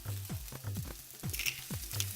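Oil sizzling in a pan while shakshuka is being made: a steady close fry with a rhythmic pattern of bursts and pops about twice a second, alone and fairly quiet.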